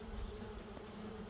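Honey bees humming around hive colonies being checked for winter, a steady soft drone close by that holds through the whole moment with no pauses.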